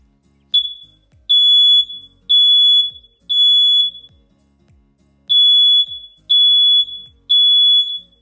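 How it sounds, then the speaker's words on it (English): Smoke alarm sounding loud, piercing high-pitched beeps in a steady pattern of long tones, with a short pause partway through before the tones resume, no talking over it. "If your smoke alarm goes beep, beep, beep, your job is to get out and stay"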